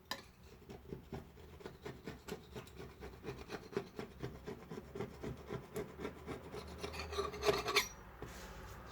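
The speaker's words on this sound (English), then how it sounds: "So I'm just going to get some of this flaky paint off now before I start rubbing it" Flaky paint being scraped off a window sill, a steady rhythmic series of rasping strokes, close and fairly quiet, picking up pace and intensity toward the end, no voices.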